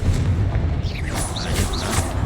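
The Confringo explosion spell in Hogwarts Legacy lands as a short, booming blast with a whooshing magical swirl and bright zips over a low rumble, loud and close, with no talking.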